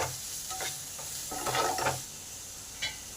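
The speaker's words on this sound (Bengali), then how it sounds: "নুন আর হলুদটাকে ভালোভাবে আলু পেঁয়াজের সাথে মিশিয়ে নিই" Potatoes and onions seasoned with salt and turmeric are stirred in a hot frying pan, a steady sizzle under several scraping strokes of a spatula and one brief tap near the end.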